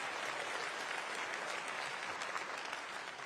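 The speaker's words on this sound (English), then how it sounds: "So let's give him another round of applause while he's actually doing the job." Audience applause at a Conservative Party Conference, a dense, even wash of clapping from a large crowd, heard at a distance and fairly faint, with no talking.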